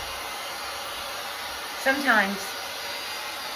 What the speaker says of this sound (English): I'm gonna take out my little hair dryer.